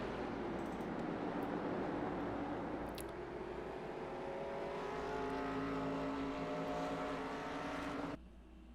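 Race cars roar around the Stafford speedway oval in a continuous dense engine drone with pitch shifts as the pack passes, ending abruptly near the end.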